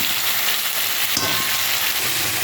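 Vegetables and chicken fry in a hot pan for a chicken stew, giving a loud, continuous sizzle with a brief crackling burst partway through and no talking.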